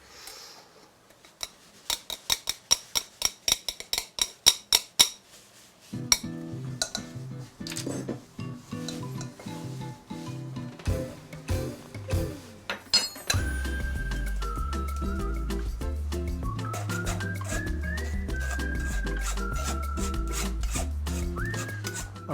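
A hand sifter works cake flour, giving a quick run of sharp rhythmic rasping clicks, then a pause; later, background music swells and runs steadily beneath fainter scraping.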